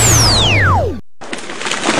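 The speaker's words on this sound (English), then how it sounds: "That was the sound of a tree falling." A tree falls: a long descending whistling sweep with heavy rumble ends abruptly, followed after a brief gap by a loud, dense crackling crash of branches and debris.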